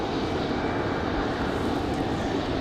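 Airliner on its evening departure from Raleigh-Durham International Airport, a steady broadband engine roar holding loud and continuous throughout, no voices.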